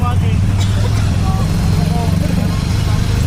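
Steady, loud low rumble of idling and creeping cars, buses and trucks stuck in a traffic jam on the road to an airport, with voices faintly present over the engine drone.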